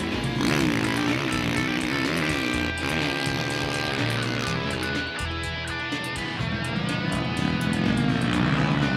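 KTM 530 EXC enduro motorcycle engine racing over mixed terrain, a loud continuous high-revving drone with shifting pitch, joined by other bikes, steady throughout.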